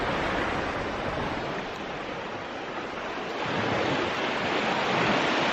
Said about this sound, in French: Bien sûr le bruit des vagues, le bruit des oiseaux